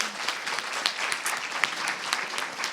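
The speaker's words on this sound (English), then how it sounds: "just a huge round of applause to you and your team" Audience at a Central Saint Martins fashion event in London applauding, a dense even wash of clapping heard from a moderate distance and fairly quiet throughout.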